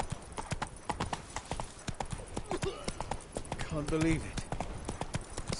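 Hooves gallop at a rapid, steady rhythm as a horse runs in Witcher 3, with a brief whinny and snort partway through. Someone speaks briefly over the hoofbeats.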